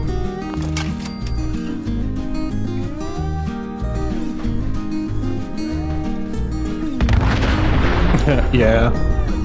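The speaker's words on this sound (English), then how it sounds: "Who doesn't love a good explosion?" Loud, booming explosion from the video game Fallout 4, erupting after steady game music and holding as a dense roar near the end.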